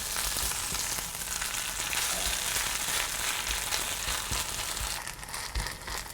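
A French-style potato pancake sizzles steadily in a pan over medium to medium-low heat, a dense, close, continuous frying crackle with a faint stir or scrape near the end.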